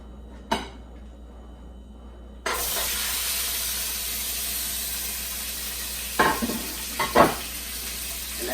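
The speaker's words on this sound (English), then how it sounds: "And that sizzle, that's definitely something you want to hear." Andouille sausage sizzles loudly in a hot pan for gumbo, a steady close frying hiss that starts abruptly after a quiet moment, with a few clinks and stirs toward the end.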